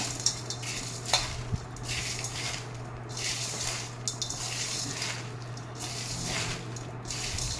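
Turmeric being stirred into mango pickle (magaya) with a spoon, a steady soft scraping and mixing texture with a few brief clinks, close and fairly quiet, no talk.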